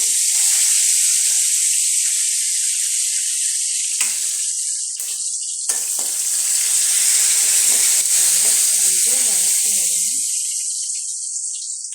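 Mustard seeds, chana dal, curry leaves and dried red chillies sizzle and hiss steadily in hot oil for a tempering, a loud continuous frying sound with a few faint pops.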